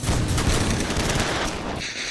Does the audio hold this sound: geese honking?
no